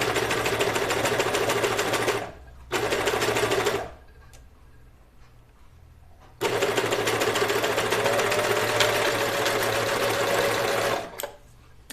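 A sewing machine stitches a Moneta dress in fast, close, steady bursts, pausing briefly near two seconds and for a longer stretch in the middle before running again, then stopping shortly before the end.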